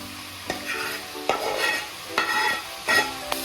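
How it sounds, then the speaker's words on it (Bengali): Fried vegetables and a fried prawn-type fish go into a pan of half-cooked stems for a Bengali chochchori, followed by repeated scraping stirs with a spatula over a steady sizzle, several sharp clacks against the pan. "আমি এখন এই ভেজে রাখা সবজিগুলোকে দিয়ে দিচ্ছি"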